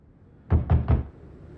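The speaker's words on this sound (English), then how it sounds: "Ryan Gosling knocks on her door to coax her out" Three quick knocks on a wooden door in the video game The Wreck, evenly spaced and fairly close, with quiet room tone before and after.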